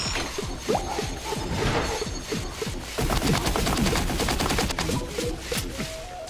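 A zombie boss's Gatling minigun arm firing in Plants vs. Zombies: Battle for Neighborville, a loud, rapid stream of shots with scattered impact crashes and whooshes running throughout.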